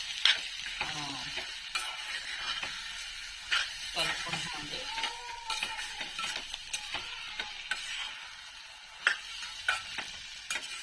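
A spoon stirs egg through a carrot curry in a pan, with a soft steady sizzle and repeated scraping clicks running throughout.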